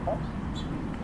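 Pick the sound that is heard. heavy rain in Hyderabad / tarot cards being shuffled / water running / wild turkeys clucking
wild turkeys clucking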